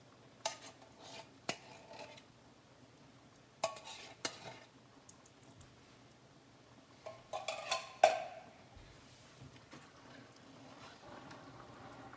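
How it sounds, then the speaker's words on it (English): Light stirring of chicken Panang curry in a pan, with scattered soft scrapes and clinks of a utensil against the cookware, brief clatters near the start and a busier flurry of stirring sounds around the middle, fairly quiet overall. "So lightly stir it."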